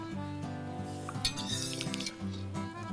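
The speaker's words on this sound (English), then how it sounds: "I'm just going to scoop some of them out" A metal utensil scrapes and clinks against a pot while scooping tender cooked vegetables out of a French-style pot roast, soft irregular stirring and chinks under a steady background tone.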